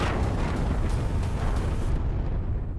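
A loud bomb explosion roars as one dense, sustained blast with deep rumbling. Its crackle fades after about two seconds, and no voices are heard.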